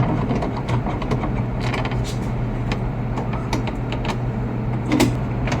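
Steady mechanical whirring and clicking of a printer mechanism running continuously, with sharp ticks scattered throughout and a low hum underneath.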